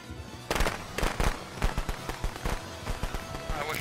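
Rapid crackling pops burst in quick irregular succession, like a string of firecrackers going off close by, in the video game Friday the 13th.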